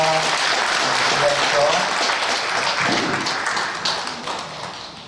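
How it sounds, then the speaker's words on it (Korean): Church congregation applauding together during a Sunday service, a steady wash of clapping that carries through and gradually fades, with some murmuring beneath it. "다시 한번 박수 주시기 바랍니다"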